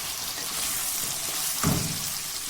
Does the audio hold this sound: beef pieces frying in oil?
yes